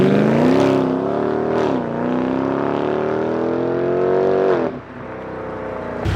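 BMW M5 with a V10 engine and muffler delete revs hard and loud up close, its pitch climbing in several sweeps and then dropping back, with no one talking.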